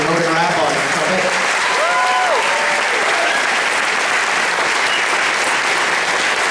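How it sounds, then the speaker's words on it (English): Sustained audience applause for a trumpet player at a high school jazz ensemble concert, dense and loud clapping throughout, with a few voices briefly audible over it. "One more round of applause for Logan Rapp on trumpet."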